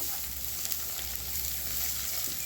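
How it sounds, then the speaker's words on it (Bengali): Lote shutki fish frying in oil with chopped garlic, ginger and green chili, a steady close sizzle that stays even and continuous with no talking. "দিয়ে আমি ওই মাছগুলোকে ভাজা করবো।"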